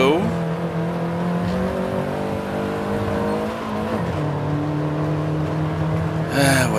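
A 1971 Lotus Elan Sprint, rear-drive with a four-speed, drives over rocky off-road ground. Its engine drones steadily and close, dipping briefly as it shifts around the middle, then rising again near the end.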